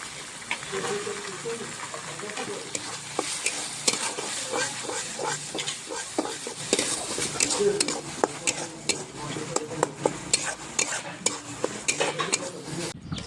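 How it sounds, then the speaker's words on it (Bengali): Spice masala with salt and turmeric frying in a pan for a village-style goat leg curry, a steady close sizzle broken by repeated metal scrapes and clinks of stirring throughout. "তো বন্ধুরা মশলাটা বেশ লাল লাল করে ভাজানো হয়ে গেছে।"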